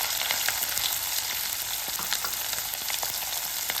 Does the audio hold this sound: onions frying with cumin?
yes